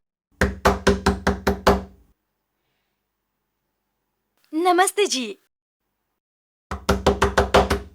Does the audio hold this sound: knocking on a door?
yes